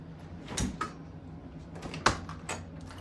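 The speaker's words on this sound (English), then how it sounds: "Lock the door so nobody comes in on us." A door lock is worked inside a house being set up for an estate sale, giving a few sharp, close metallic clicks and knocks spaced out against a quiet room.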